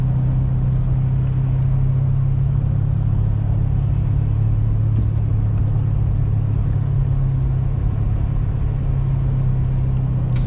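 A Honda EM2 widebody car idles with a steady low engine rumble, close and continuous, in a snowy lot.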